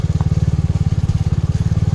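A Royal Enfield Hunter 350 motorcycle rides a rough off-road track, its single-cylinder engine thumping in a fast, steady, loud pulse close by throughout.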